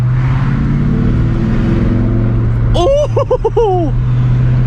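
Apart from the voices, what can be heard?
Ford Mustang Cobra revving with Flowmaster 40 Series exhaust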